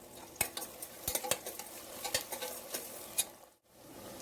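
Chopped onions and sliced green chilies fry in a little oil with rock salt while a spoon clinks and stirs against the vessel, crackling close up and ending in a short pause.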